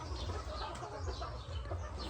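Hens cluck and murmur in a farm shed housing country chickens, low and fairly close, with a steady background hum.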